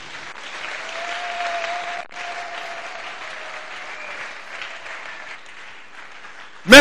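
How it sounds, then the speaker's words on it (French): Sustained applause with cheering from a church congregation at a French-language sermon, steady and fairly loud for several seconds, then a brief burst at the end. "Merci pour vos acclamations."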